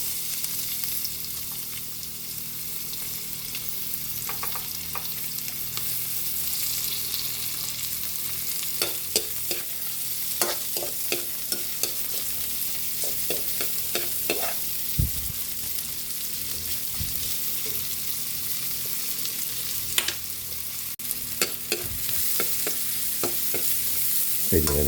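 Onions fry in a pan alongside garlic, a steady close sizzle lasting throughout, with intermittent scraping and stirring clicks.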